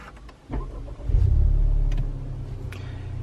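A 2019 Honda Civic Type R turbocharged engine cranks and fires up after a click, giving a short rising rev that settles into a steady, fairly loud low idle heard up close.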